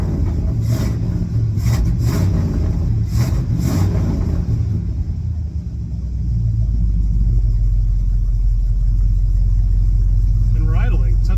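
A 1972 Ford F750 pickup truck engine runs with a steady low rumble, settling into an even idle after some earlier revving and a few sharp knocks.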